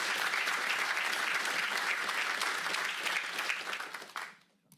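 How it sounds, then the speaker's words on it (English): A room full of people at a county board of supervisors meeting gives a dense, steady round of applause that fades out quickly at the end. "let's give them another round of applause for the great work"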